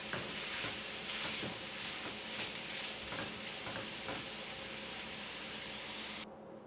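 Meat frying and being stirred in a pan over a medium flame for shark fish puttu, a steady close sizzle with scraping stirs throughout, cutting off abruptly near the end.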